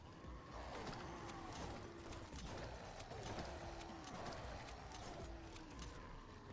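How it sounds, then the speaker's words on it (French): Footsteps in a video game tap along in a steady, even rhythm, faint and low in the mix beneath a continuous bed of game ambience. "qu'on entend les bruits de pas"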